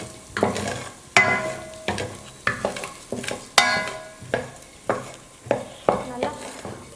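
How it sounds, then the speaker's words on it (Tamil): Moong dal dry-roasting in a pan over medium flame for sweet pongal, stirred with a spoon in steady strokes about every second, each producing a close, scraping rustle of lentils against the metal. "ஸ்டவ்வை மீடியம் ஃப்ளேமில் வச்சுக்கிட்டே குறைஞ்சது 3 நிமிஷத்துக்கு நல்லா பருப்பை வறுத்துக்கணும்."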